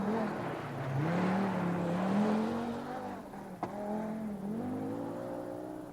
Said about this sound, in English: John Buffum in the Audi, America's #1 rally driver